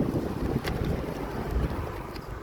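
Wind gusts roar and buffet against the microphone in a continuous low rumble, with no one speaking.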